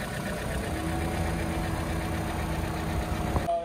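A 1.8-litre petrol Opel engine idles close by, a low continuous rumble with a faint rhythmic knock, ending with a brief clunk.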